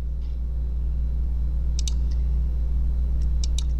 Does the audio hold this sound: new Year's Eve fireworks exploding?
no